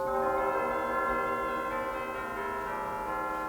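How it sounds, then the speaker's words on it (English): Bright, sustained bell-like chimes ring out from a pipe organ's chimes stop, their tones overlapping and lingering as they slowly fade. "and we have chimes"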